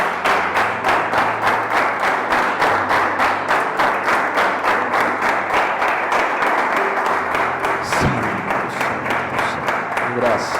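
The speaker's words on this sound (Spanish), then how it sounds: "Eleva un fuerte aplauso al Rey." A church congregation claps loudly in a fast steady rhythm throughout, with a voice speaking over the applause and a brief thump near the end.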